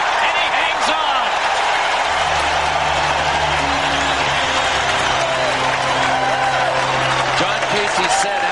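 A hockey arena crowd at an NHL playoff game yelling loudly in a continuous roar that fills the whole stretch, with a commentator's voice running over it.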